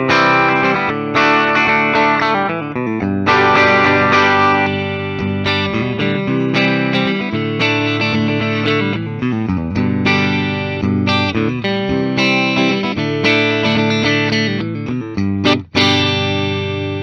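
A 2021 Fender Custom Shop Masterbuilt Trouble Maker Cabronita Telecaster electric guitar plays loud, continuous chords and riffs through distortion, chorus and other effects, with strummed hits and no talking.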